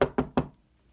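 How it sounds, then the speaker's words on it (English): Three heavy knocks pound on a door in quick succession, each sharp and resonant with a short decay, followed by silence. "there was a pounding at the door"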